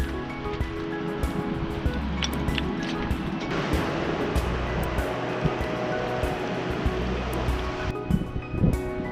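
Waves washing onto a beach make a steady, broadband surf roar that fills the whole stretch with only small swells in level and no clear voices.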